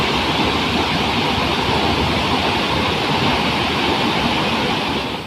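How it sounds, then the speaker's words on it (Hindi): Mahadev Khoh waterfall at Nauhatta in Rohtas district, Bihar, in flood after torrential rain on the Kaimur hills, a loud, dense, unbroken roar of crashing water close by, alone without voices. "महादेव खोह के वाटरफॉल का है।"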